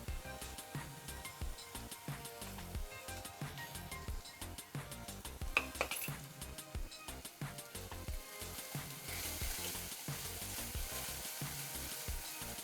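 Small potatoes roast in oil in a pan for aloo dum, giving a soft continuous sizzle with faint stirring scrapes and light clinks, quiet and steady with no talking.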